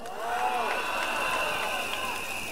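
A crowd at a PAP general election rally at Keat Hong Plaza cheers and applauds. The roar of voices and clapping swells quickly and stays loud and steady.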